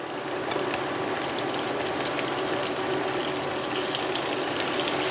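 Battered shrimp frying in hot oil at about 350 degrees in a pan, a loud continuous crackling sizzle with dense popping bubbles, close and unbroken with no talking.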